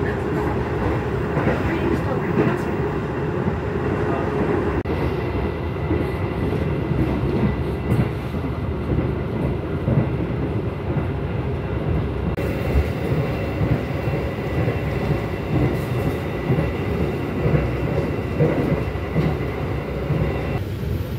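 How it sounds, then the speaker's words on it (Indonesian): Steady rumble and rattle inside the moving Argo Cirebon executive train in Indonesia, continuous and fairly loud with rhythmic wheel clatter throughout, a voice talking faintly over the noise. "Perjalanan saya naik kereta api Argo Cirebon"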